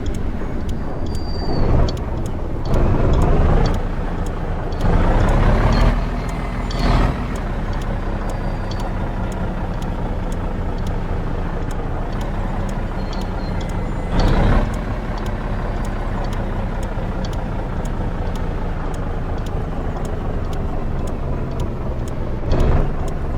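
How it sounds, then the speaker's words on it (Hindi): Tata truck engine driving in a mountain-drive video game, a steady loud drone with periodic revs and swells, accompanied by bursts of air-brake hiss throughout. "बहुत ही ज़बरदस्त साउंड है गाड़ी का।"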